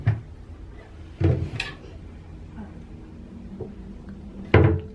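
A small fridge door in a hotel room is pulled open and shut, giving a few soft thuds and clunks spaced a second or more apart, close by with faint room noise between.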